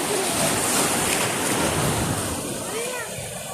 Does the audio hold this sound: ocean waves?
yes